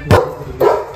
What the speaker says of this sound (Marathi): ऋतिकाचा डॉग आहे